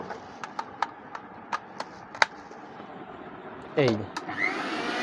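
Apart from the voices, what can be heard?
Disney-brand electric blender running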